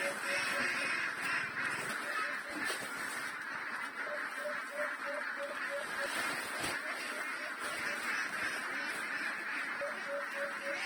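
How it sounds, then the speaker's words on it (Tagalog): A large flock of domestic ducks at feeding time, with repeated quacks and honking calls rising over a dense, continuous background murmur of the flock and a voice talking. "Meron na tayong napakain ng mga 600 plus na itik."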